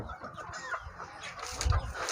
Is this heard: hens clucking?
yes